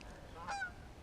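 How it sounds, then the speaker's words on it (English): A lone goose gives a single brief honk, faint and distant over a quiet outdoor background at a fishing spot, with no talk. "1 lone goose."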